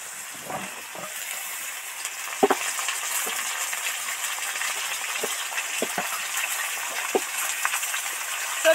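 Potato and papaya pieces deep-frying in hot oil, a steady close hiss and sizzle with scattered sharp pops and bubbling crackles throughout, no talk.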